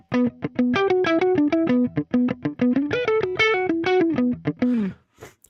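Electric guitar played dry with echo and reverb switched off, a quick melodic run of clean, distinctly separated notes with a slightly driven tone, each note stopping abruptly with no trailing ambience, close and loud.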